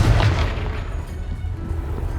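Blasting-spell explosion in Hogwarts Legacy: one deep booming burst at the start, then a rumbling tail that fades to low background noise.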